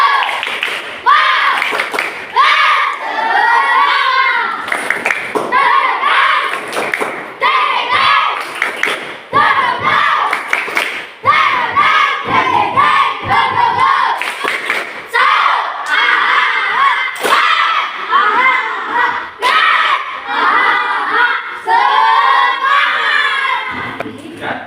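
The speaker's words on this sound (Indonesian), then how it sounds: "Kita tepuk semangat dulu." Schoolchildren in a classroom do a tepuk semangat rhythmic cheer, loud shouted chanting with bursts of patterned clapping repeating throughout, voices dominating the clapping.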